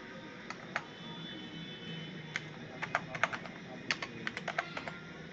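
Typing on a computer keyboard while entering a voter card number into an online form: a light rattle of keystrokes, a few scattered taps and then quicker clustered bursts, fairly close and quiet over low room noise.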